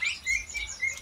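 Blue-crowned hanging parrots chirp in an aviary with a rapid run of thin, high tweets repeating in quick bursts over soft low background rumble, fairly close and moderately loud, with no voices.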